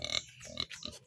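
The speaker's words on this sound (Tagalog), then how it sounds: "Yung kapatid ko may alaga silang baboy." A pet pig, a pregnant sow kept in a pen at a family home, makes a few soft snuffling grunts close by at low volume, with no talk over them.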